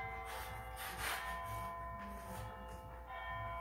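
A bell rings in a workshop during bowling lane construction, a bright sustained metallic tone with lingering overtones that hangs steadily over a low background hum for several seconds.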